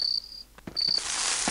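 Loud crickets chirp in the Half-Life mod They Hunger, a bright sustained trill that breaks briefly and then returns, mixed with a few soft knocks and a rising hiss.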